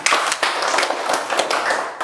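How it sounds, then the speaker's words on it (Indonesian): Students in a classroom give a round of applause at their teacher's prompt: dense, steady clapping from many hands fills the whole stretch, fairly loud and close, with only a few stronger claps standing out. "silakan sekali lagi kasih tepuk tangan"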